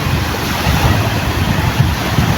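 Strong wind roars steadily over the sea near fishing boats heading out, with broadband gusting noise and low surf rumble filling the whole stretch, no voices.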